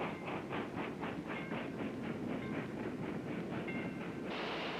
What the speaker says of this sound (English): Trains, like this one in Africa, can transport many people and goods.